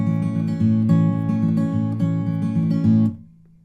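Acoustic guitar plays a fingerpicked intro pattern, even rolling plucked notes over a low bass line, then a quick mute leaving a fading ring.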